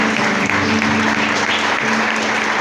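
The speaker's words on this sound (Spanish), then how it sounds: "Fuerte ese aplauso" Dense, steady applause from a large church congregation, loud and continuous throughout with no pauses.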